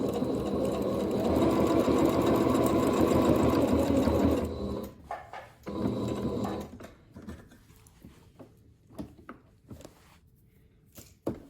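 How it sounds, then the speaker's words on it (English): A sewing machine runs steadily for about four seconds while stitching a pant seam, then breaks into short, stop-start bursts and quieter mechanical handling as the fabric is pivoted. "And I'm going to sew up to our little notch or mark right here."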